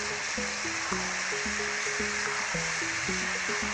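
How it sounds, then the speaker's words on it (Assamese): Potatoes and chicken fry with ginger garlic paste in a pan, giving a steady, fairly loud sizzle while a simple melody of background music plays underneath. "আলুখিনি মাংসৰ লগত খুব ধুনীয়াকৈ ভাজি ল'ম"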